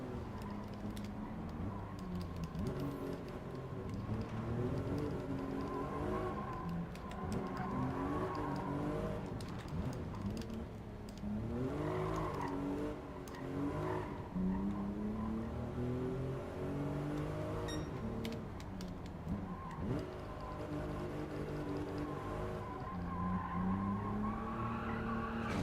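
Cars racing in Gran Turismo 7 on PS5 give off a continuous engine roar that climbs in pitch through gear changes, with repeated tire squeals and skids through corners, all close and steady.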